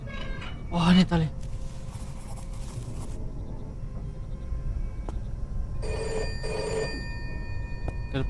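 A telephone rings in the horror video game Pieces of Me, a bright electronic trill sounding in two bursts over a steady low background hum, with no talking.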